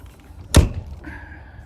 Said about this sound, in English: the door latches way better now